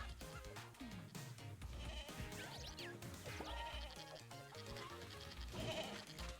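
Goats bleat repeatedly in a video game, wavering cries rising over a busy, dense backdrop of game music and effects that runs throughout.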